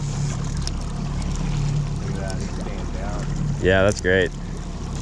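Fishing boat motor running steadily at low throttle while salmon fishing in open marine water, a low continuous drone with brief talk over it.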